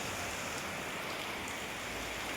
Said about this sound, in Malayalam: മഴ ഉൾപ്പെടെ ഇത് കാറ്റ് മഴ എല്ലാം ഉണ്ട്